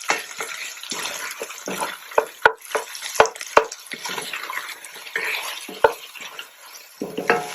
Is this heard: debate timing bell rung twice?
no